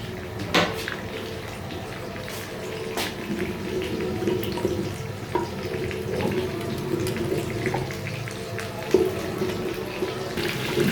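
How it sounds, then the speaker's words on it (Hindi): Beef koftas fry in a pan over a medium flame with a steady, dense sizzle and occasional faint clinks, close by. "कोफ्तों को आपने मीडियम फ्लेम पे पकाना है ताकि ये अंदर तक पक जाए।"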